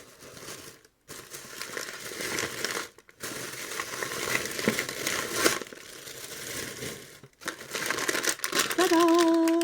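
Pretty wrapping paper crinkles and rustles close up as a present is unwrapped, in repeated bursts broken by short pauses. A brief tonal voice-like sound comes in at the end.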